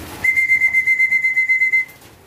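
A single long, steady, high-pitched human whistle calling racing pigeons, held for about a second and a half, close and clear against a quiet background.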